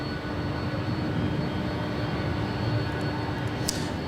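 An airliner landing on runway 24 right at LAX, a steady broadband jet roar held at moderate distance throughout, with no voices.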